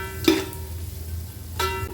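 Chopped onion sautéing with rock salt in a pan for Sunday biryani, a soft steady sizzle with two louder scrapes of stirring, no talking.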